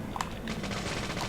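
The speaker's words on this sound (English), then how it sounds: "Let's use the machine gun." Short burst of machine gun fire in the video game Deadly Premonition, a thin, clipped rattle of a few quick shots lasting about a second, fairly quiet with no talking.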